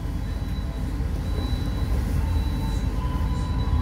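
The Argo Bromo Anggrek train departs Cirebon station, heard from inside as a loud, continuous rolling rumble of wheels on rails with a faint high squeal above it.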